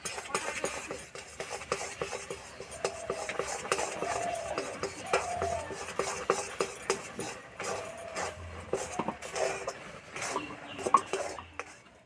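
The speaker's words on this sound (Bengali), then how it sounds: "এক কাপ চালের গুঁড়ো দেব অল্প অল্প দেবো এইভাবে নাড়বো" Dry rice flour being stirred into water in a cooking pot, a continuous close scrape and slosh of a spoon with light metallic taps against the pot's sides and a faint background hum, no talking.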